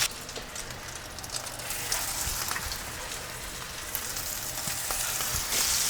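Swedish pannbiff meat patties and onions fry in a pan with a dense, steady sizzle and crackle, close and continuous, swelling slightly louder toward the end.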